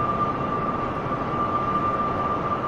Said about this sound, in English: Just listen to those engines.